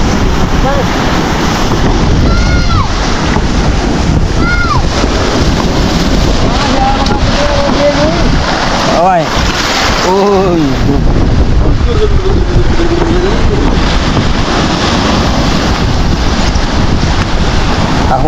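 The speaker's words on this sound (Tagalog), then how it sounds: "Grabe ng alon." Strong waves at Baseco, Manila, crashing and churning loudly with heavy wind buffeting the microphone, continuous rough water throughout while people talk briefly nearby.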